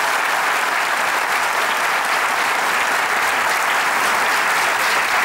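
A studio audience at a comedy show gives dense, steady applause that stays loud and even for the whole stretch, with no talk over it.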